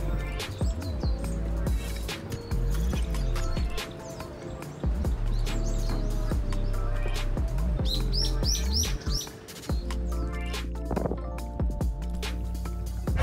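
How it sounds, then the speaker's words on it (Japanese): Small birds chirping and calling outdoors during a walk with a dog, with repeated short high tweets and calls over a steady low background hum, some close and clear, others more distant. "小鳥が飛んできました。 周囲からは鳴き声も聞こえます。"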